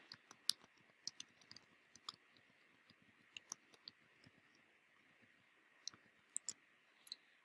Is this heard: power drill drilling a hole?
no